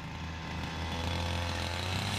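A grass cutter engine runs steadily nearby during an eggplant harvest, a continuous loud buzzing drone with no talking.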